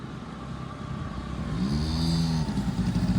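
A small moped engine idles and then revs during a race, a buzzing motor that rises in pitch midway and settles into a steady hum, heard close with no talking.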